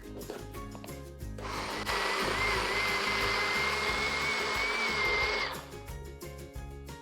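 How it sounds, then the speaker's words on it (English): A small single-serve blender purees canned soup ingredients, its loud steady motor whine running about four seconds, flanked by quieter clatter and low hum before and after. "And then I'm just going to puree it until it's pretty smooth"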